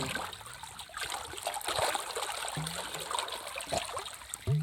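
A small flow of irrigation water trickles steadily through furrows in a castor bean farm field, a continuous close gurgling stream with a few light splashes.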